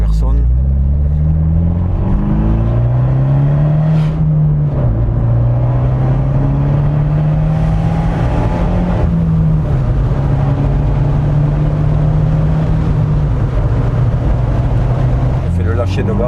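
Abarth 124 Spider roadster accelerating up an empty hill, its engine loud and close with rising revs and gear changes, while someone talks over it.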